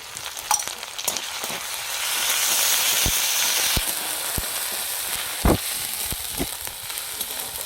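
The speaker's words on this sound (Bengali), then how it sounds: "আদা রসুনটা খুব ভালোভাবে ভেজে নেব।" Ginger and garlic paste fries in a pan with a steady sizzle, joining onion already fried until red, while a few sharp utensil taps and scrapes sound close by.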